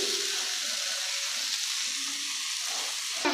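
Mint leaves sautéing in a pan for Tamil-style pudina chutney, a continuous close sizzle and hiss with faint stirring and a small clink near the end.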